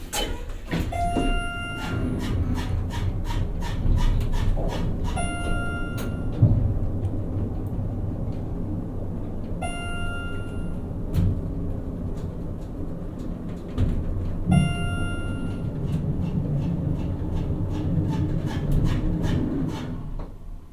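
A glass Schindler elevator in a municipal parking garage in Jefferson City descends with a low, continuous mechanical hum, broken by sharp clicks and short ringing tones that repeat every few seconds.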